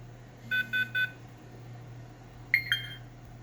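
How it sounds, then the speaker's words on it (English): A Flysky Noble NB4 radio transmitter left untouched sounds its inactivity warning: three quick, even electronic beeps close by, then after a pause a shorter pair of chirps over a faint steady hum. "If you leave it without touching anything, it will warn you that you left it on"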